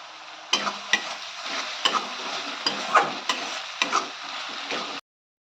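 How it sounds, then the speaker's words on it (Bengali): Chopped onion and spices sizzle in a pan for chana masala, a steady broadband frying hiss broken by repeated sharp spatula scrapes and stirring knocks throughout, close and fairly loud. "এবার ভালো করে সবগুলো কষে নেব"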